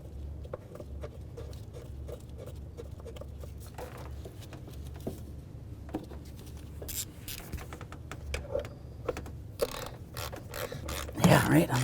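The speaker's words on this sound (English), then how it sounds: "We'll put in this bracket bolt as well." Ratchet clicking in short bursts as a bracket bolt is driven into the driver's side of the intake manifold on a 2007-12 Nissan Sentra, close and moderately loud over low workshop hum, with louder handling clatter near the end.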